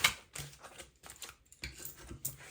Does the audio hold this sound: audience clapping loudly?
no